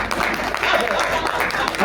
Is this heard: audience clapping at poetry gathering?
yes